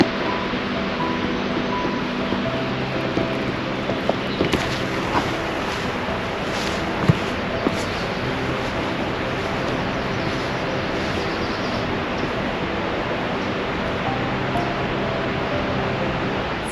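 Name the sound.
waterfall getting louder while walking down a path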